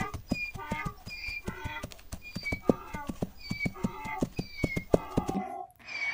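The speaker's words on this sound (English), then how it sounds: "It's a donkey." A donkey's hooves clip-clop at a steady walking pace, close and distinct, with bright tonal sounds layered over the beat before it cuts out at the end.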